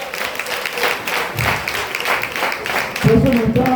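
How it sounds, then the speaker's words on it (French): Congregation at a church prayer gathering claps steadily, brisk applause running throughout with voices speaking or calling out over it. "Des applaudissements pour le Seigneur maintenant."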